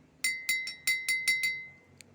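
A glass half full of water tapped seven times in quick, even succession, each strike a bright ringing clink with a steady pitch, followed by a pause and one fainter tap; close and clear with no talking.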